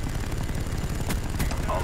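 Chopper gunner firing in a video game: rapid, continuous bursts of heavy helicopter-mounted gunfire over a thudding rotor drone, loud and dense throughout with a couple of sharp louder blasts.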